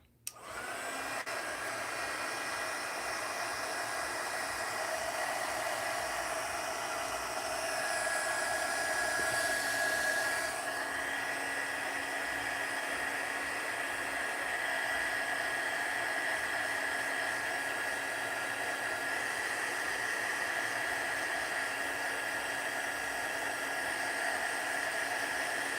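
A hair dryer blows steadily to dry glue, its constant airy whoosh running unbroken and fairly close for the whole stretch with no one talking.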